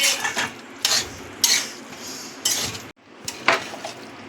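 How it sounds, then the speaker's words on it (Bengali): Bottle gourd curry with coriander leaves being stirred in a pan, with a spoon scraping and clinking against the metal in irregular bursts, close and fairly loud. "ধনেপাতাটা দিয়েও মিশিয়ে নিচ্ছি।"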